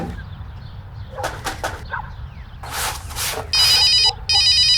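An electronic telephone rings in short repeated warbling bursts near the end, loud and close, after some quieter rustling and a few soft knocks, with no talk.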